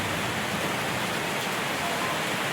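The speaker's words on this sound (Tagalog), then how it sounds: "Maulan na po. Malakas na po yung ulan." Heavy rain pours down in a steady, dense hiss that stays even and unbroken throughout, with no voices over it.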